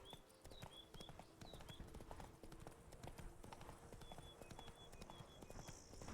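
Horse hooves clip-clopping in a steady walking rhythm from Roach in The Witcher 3: Blood and Wine, with faint bird chirps and game ambience behind the footfalls.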